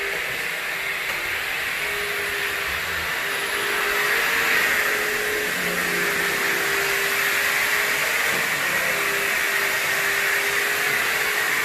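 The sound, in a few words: vacuum cleaner running in a house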